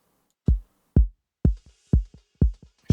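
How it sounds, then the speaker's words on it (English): Drums with a tape echo effect: punchy low kick hits land about every half second, each trailed by a quieter echoed repeat, with a faint high wash behind them and no talk. "There's a bit of process in this bit. I've got tape echo."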